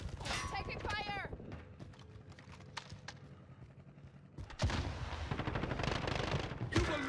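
Gunfire in Call of Duty Warzone gameplay comes as rapid automatic bursts and single shots. It is steady in the middle and turns into loud, dense volleys in the second half, with a voice heard in the game.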